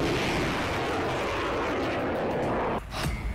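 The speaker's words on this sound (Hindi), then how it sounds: "कलिब्र मिसाइल से हमला, इस्कंदर मिसाइल से अटैक" Missile strike explosions from Kalibr and Iskander missiles: a sustained, loud broadband roar and rumble fills nearly the whole stretch, then drops abruptly near the end into a rougher burst.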